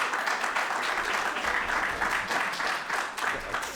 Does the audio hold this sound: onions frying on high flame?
no